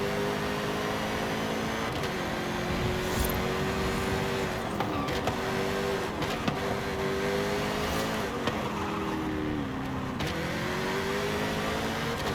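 Jaguar SVR driven in the racing game Forza Horizon 5, its engine holding a steady high-revving drone that dips and climbs with gear changes and throttle, close and continuous.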